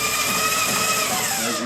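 A Claes patch sewing machine stitching at a 4 millimeter stitch length, a rapid, even mechanical whir that runs loud and steady without a break.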